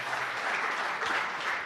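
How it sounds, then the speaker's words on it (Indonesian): Congregation applause during a church sermon, steady dense clapping filling the hall at moderate volume, with no voices over it. "tepuk tangan yang meriah bagi Tuhan Yesus"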